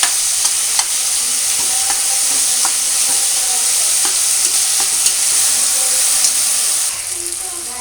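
Coriander, ginger and garlic paste fries for veg pulao, a steady loud sizzle and hiss with scattered clicks of stirring, easing slightly near the end.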